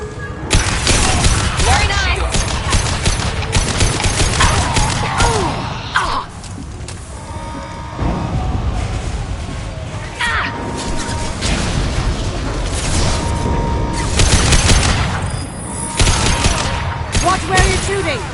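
Heavy gunfire in Mass Effect 2: rapid automatic bursts and booming shots pile up almost continuously, loud and close, with short lulls between volleys.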